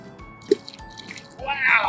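A medium-sized rock thrown into water plops with a sharp splash, followed by dripping and a louder gurgling burst of water near the end, up close.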